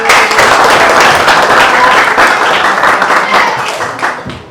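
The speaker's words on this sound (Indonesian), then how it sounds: "mari beri aplaus dong" Audience applauding at an Indonesian gathering, dense, loud, continuous clapping from a crowd that fades slightly at the end.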